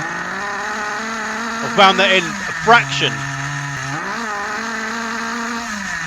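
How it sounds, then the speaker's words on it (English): Schumacher XTR21 nitro RC car engine running steady and high-pitched with a spluttery edge, giving two brief revs and then a slight dip and recovery, while someone talks close over it. "When you open the throttle, it's a bit spluttery."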